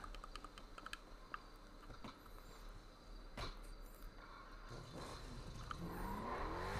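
Car engine in a modded GTA game revving and pulling in to park, steady motor drone with a rising tone near the end, accompanied by sharp keyboard clicks throughout.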